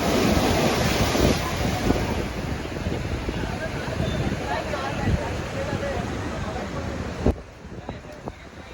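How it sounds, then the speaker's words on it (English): Powerful sea waves surge over tetrapods and a sea wall onto the promenade along a rocky, submerged coastline in stormy weather: a steady loud roar of surf and wind that eases near the end, with a brief thud. "the powerful waves often surge over the tetrapods and the sea wall, spilling onto the promenade"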